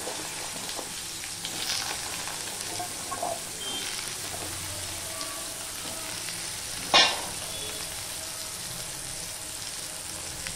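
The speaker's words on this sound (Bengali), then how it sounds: "ফোড়নটা হয়ে গেছে, এবার আমি আলুটা দিয়ে দিলাম।" Cut potatoes sizzling in oil with tempered spices, a steady quiet frying hiss throughout with a single brief clatter partway through, no talk.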